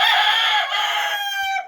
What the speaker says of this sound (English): the chickens are all huddled up right there.